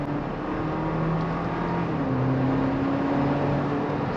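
GWM Cannon Alpha 2.0T HEV ute accelerating in normal mode, a steady engine drone with rising tone heard from inside the cabin, continuous and fairly loud with no talk.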